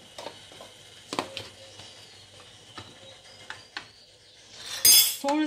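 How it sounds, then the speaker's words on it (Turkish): Metal spoon clinks and taps against a clean container while a tablespoon of baby formula is scooped in, several light separate knocks close by, ending in a brighter rattling scrape. "Şimdi bir yemek kaşığı kadar koyuyoruz temiz bir kaba."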